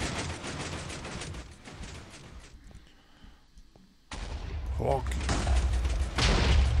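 Explosions from missiles going off in the Minecraft Missile Wars game, heavy booming bursts that surge, drop to a lull and then return louder, with a man swearing over them.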